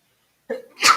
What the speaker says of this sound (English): excuse me, I have to sneeze.